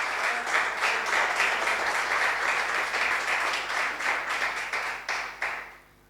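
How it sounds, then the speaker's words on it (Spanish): A church congregation applauds, dense sustained clapping that holds steady for several seconds and then tapers off and fades out near the end. "Dale un fuerte aplauso al Señor"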